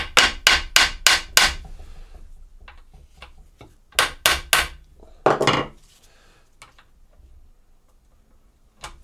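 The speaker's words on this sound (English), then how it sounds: "Let's give the nut a bit of a tapping." Hammer strikes on a nut during a Triumph T140V motorcycle engine teardown: two bursts of about five sharp metallic taps each, then a couple of duller knocks, close and loud in a workshop with no talking.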